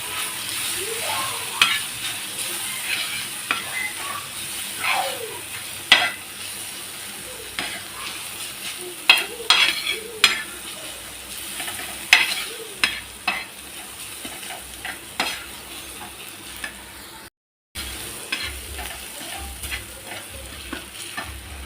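Onion, garlic and chili spice mix being stir-fried in a pan for a Marathi dry vegetable dish: a constant close sizzle with repeated scraping stirs of the spatula throughout, no talking.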